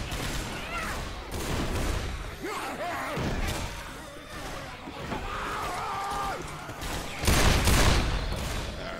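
Gunfire in the zombie shooter Left 4 Dead 2, repeated shots and bursts mixed with game effects, with a heavy blast late on, under players talking.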